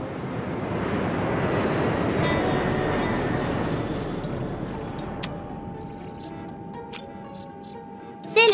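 A cartoon rocket takes off with a loud rushing roar that slowly fades, giving way to bright tonal jingles and electronic chimes in an animated children's show.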